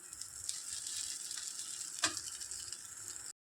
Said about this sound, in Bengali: জলখাবারে লুচি করেছি, আর ওইদিকে ভাজা হচ্ছে আরও।